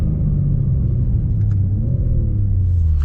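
A 2022 BMW M4 Competition xDrive, switched to rear-wheel drive, is driven through corners. Its engine gives a loud, steady low rumble with slight rises in tone and no voices.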